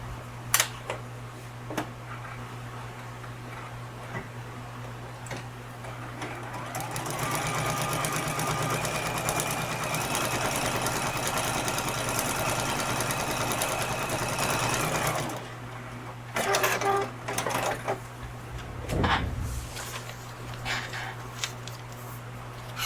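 Sewing machine stitching the first seam of a mystery quilt, running steadily for about eight seconds after a quiet stretch with a low constant hum, then stopping, followed by a few handling knocks and rustles.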